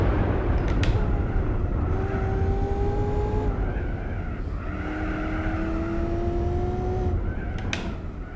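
Race car engine in Gran Turismo 4 holding steady, sustained tones with shifting pitch as the car runs through braking and acceleration, loud and continuous with no talking.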